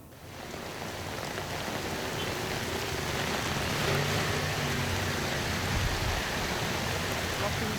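Heavy rain pours steadily onto a flooded street in Jakarta, a dense, constant roar of water with no breaks, loud and close throughout.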